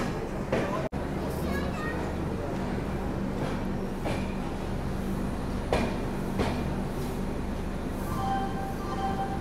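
The Karnataka Sampark Kranti Express rolls into Nizamabad Junction, heard from on board as a steady low rumble and rattle of the carriage, with a sharp knock near the start and voices faint in the background.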